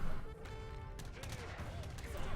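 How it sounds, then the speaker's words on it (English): Hand mortars and a cannon firing in a battle in Age of Empires 3, a quick scatter of distant booms and crackling shots blended under game ambience. "that sounds like more hand mortars. Ah, it is. And a cannon, for that matter."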